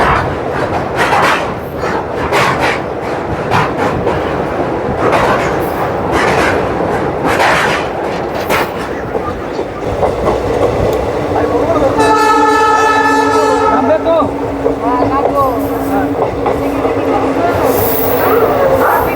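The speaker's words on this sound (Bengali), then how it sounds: "তো 7:03-এ ট্রেনটা আবার ছেড়ে দিল" A passenger train departs a station in West Bengal amid steady platform and engine rumble, then sounds a loud, sustained horn for a couple of seconds, with general noise continuing afterward.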